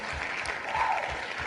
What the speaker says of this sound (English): I like the clapping.